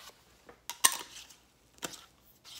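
A metal lid is set back onto a tin of L.J. Peretti British Blend pipe tobacco, giving a few sharp, close clinks and taps separated by quiet pauses.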